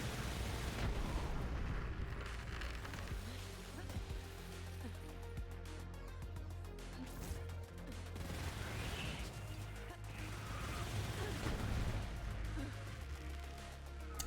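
Dense, continuous barrage of booming explosions and crackling blasts from a video game endgame build, loud and overlapping with no pause for the whole stretch.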